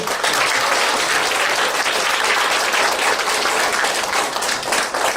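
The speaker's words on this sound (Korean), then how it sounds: "다시 한번 큰 박수." Loud, steady applause from a crowd after a talk, dense clapping filling the whole stretch without letting up.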